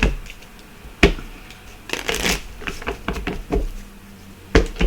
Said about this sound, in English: Let's give it another shuffle here.